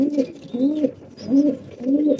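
Pet pigeons coo close by in four deep, throaty, rolling calls at an even pace, with faint higher chirps in the background.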